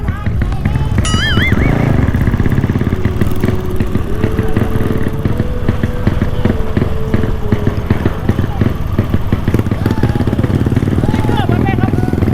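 A motorcycle rides along at close range with a steady, loud engine drone throughout, accompanied by people talking and background voices over the engine noise.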